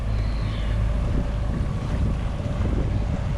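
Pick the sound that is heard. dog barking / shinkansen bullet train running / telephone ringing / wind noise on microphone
wind noise on microphone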